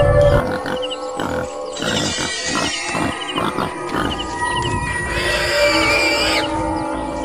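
Rough, guttural grunting from a wild boar in a forest, repeated in uneven bursts over a noisy outdoor background, fairly close.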